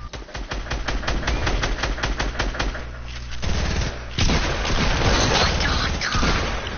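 SMG bursts in a video game, rapid regular shots at first, then denser and heavier gunfire with booms, loud and close.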